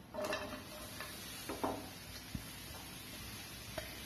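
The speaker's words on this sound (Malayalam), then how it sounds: "ഇനി അതിലേക്ക് നമുക്ക് ഈ സവാള ഇട്ട് കൊടുക്കാം." Chopped onions hit hot coconut oil in a pan for a Kerala egg roast, giving a soft, steady sizzle with a few faint clinks and stirring scrapes, no voices.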